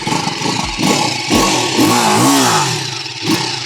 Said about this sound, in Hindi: थोड़ा एग्जॉस्ट भी आप लोगों को सुनाई दे रहा होगा।